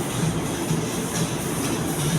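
A steady, loud rail rumble with low clattering as an LRT light rail train rolls into Carriedo station in Manila, with no voices.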